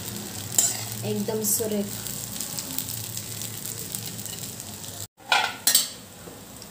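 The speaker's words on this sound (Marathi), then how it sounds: "हे सगळं मिक्स करून घ्यायचं आहे." Sabudana khichdi is stirred and tossed in a frying pan over a continuous sizzle, with occasional spatula scrapes and clinks, and a brief word from a voice partway through.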